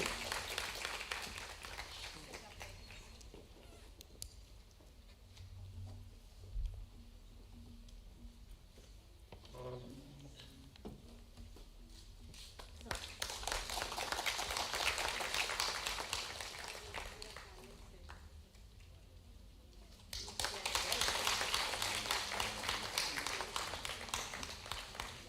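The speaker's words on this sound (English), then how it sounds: "Please give a big round of applause to all the dignitaries." At a CSIR event on millets, a hall audience gives the dignitaries two bursts of applause, fairly distant and soft, separated by stretches of quiet talking and room noise.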